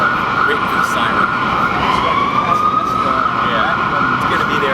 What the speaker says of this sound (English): waiting for the siren.